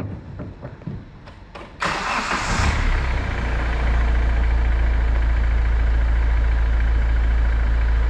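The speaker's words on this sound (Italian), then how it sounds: "Avvia il motore." A car engine cranks with a few short starter bursts, catches with a loud roar, then settles into a steady, close idle, recorded during a battery starting test.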